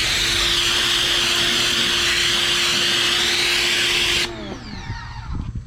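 Pressure washer sprays soap onto an RV, a loud steady hiss and motor whine that runs continuously for about four seconds, then cuts off abruptly, leaving faint clatter and rattling.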